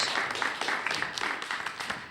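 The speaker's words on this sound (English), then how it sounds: "Let's get a round of applause for group 2." An audience at a high school video competition applauds the winning group, brisk clapping from a modest crowd, fairly close and steady throughout the short stretch.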